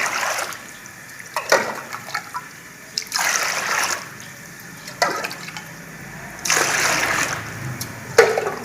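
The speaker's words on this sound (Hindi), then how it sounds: "ठंडा पानी डालते रहना है इसमें।" Water pours and splashes into a pot in several separate bursts, each a few seconds long, close by, with quiet pauses between pours.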